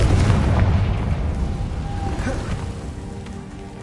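Confringo fire spell blasting in Hogwarts Legacy on PS5, a loud booming explosion with dense low rumble that decays over several seconds amid game ambience.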